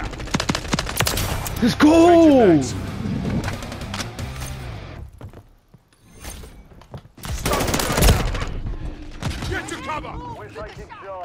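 Rapid gunfire in a first-person shooter domination match, sharp bursts of shots loud and close, broken by a quiet gap, with a player speaking over the action.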